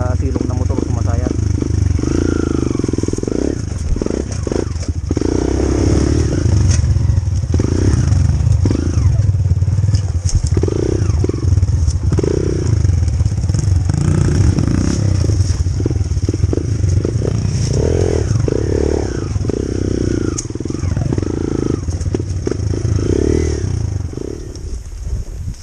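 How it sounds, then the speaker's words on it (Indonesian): Motorcycle ridden over a rough trail to a large balete tree in Pangasinan, engine roaring steadily with clattering and scraping as the underside, footpegs and engine drag on the ground; people talk over it throughout. "Makina footpeg lahat na nasa silong ng motor sumasayat."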